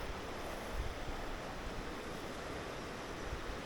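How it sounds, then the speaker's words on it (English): A river flows downstream from a dam in the Eryri countryside, a steady broadband rushing wash of water, even and continuous, fairly faint with no voices. "This is the river that comes from the dam we saw earlier."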